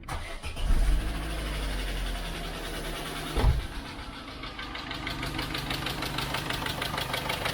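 A Corsa SXI cranks and its engine catches with a loud low rumble, followed by a brief blip of revs, then settles into a steady, close idle with no talking.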